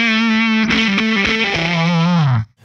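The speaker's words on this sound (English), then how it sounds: "Oops, fuzz pedal." An electric guitar played through a fuzz pedal, thick and saturated, with a sustained bending phrase that holds, shifts pitch and then cuts off abruptly near the end. The guitar is heard alone, with no voices.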